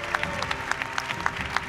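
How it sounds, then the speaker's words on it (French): A crowd at a French swearing-in and awards ceremony claps for prize winners, a busy patter of hand claps at moderate level with murmuring voices beneath. "On applaudit nos lauréats"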